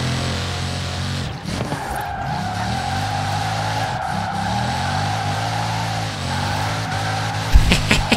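A Bugatti Chiron drifting in the video game Forza Horizon 4, rear-wheel drive, with long loud tyre squeals and skidding over a steady engine roar, close and continuous.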